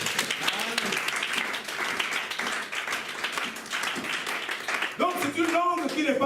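A church congregation breaks into sustained applause and clapping to acclaim Jesus, a dense, steady wash of hands throughout, with a brief swell of louder, more tonal crowd noise near the end.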